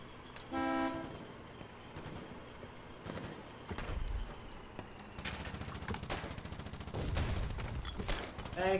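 Distant battle tank fire in the video game Foxhole sounds out as scattered heavy booms and rattling bursts under a noisy battlefield mix, with a short horn-like tone near the start.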